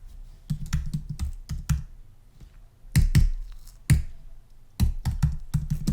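Bursts of fast typing on a computer keyboard come close and crisp, broken by short pauses, with no voices.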